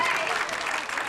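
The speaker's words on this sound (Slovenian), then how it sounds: "Velik aplavz ste poželi." A studio audience at a Slovenian television entertainment show applauds a contestant. A brief, steady wash of close, dense clapping fills the whole moment.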